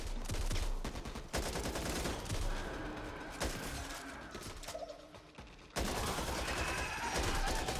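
Assault rifle fire in the game Back 4 Blood, rapid bursts of shots and fusillades with brief gaps, the volume dropping and sounding muffled near the end before the full-volume gunfire returns.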